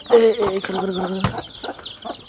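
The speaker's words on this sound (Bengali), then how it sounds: "এই যে আমার মুরগিটা" A hen clucks repeatedly nearby, short throaty notes in quick succession, loud and close with some background murmur.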